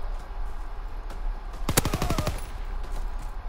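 A rapid burst of automatic gunfire from the video game Call of Duty WW2, about ten fast shots fired at a metal wall over half a second, loud against a steady low game background.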